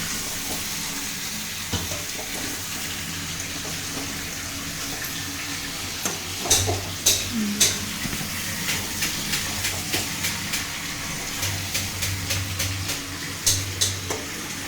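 Potatoes sizzle loudly in a small wok alongside mutton cooking, a constant hissing fry with repeated scraping stirs and clattering knocks growing more frequent midway, and no voices over it.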